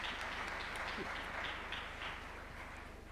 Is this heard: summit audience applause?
yes